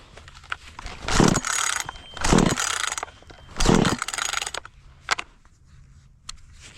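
A cheap Chinese gas-powered chainsaw is pulled to start, giving three loud, rasping cord pulls in a row followed by a few quieter clicks and knocks.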